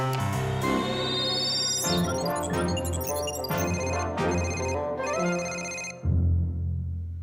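A computer call ringtone plays a melodic electronic ringing pattern, bright and steady, repeating for several seconds before cutting off, with no voices over it.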